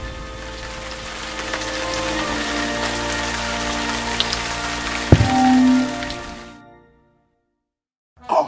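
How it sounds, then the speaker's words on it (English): Steady rain patters on a surface with a dense, hissing wash, loud and continuous, broken by a single sharp knock before it cuts to silence, then a brief burst of sound at the end. "Soon the sky grew dark with clouds, and God sent rain."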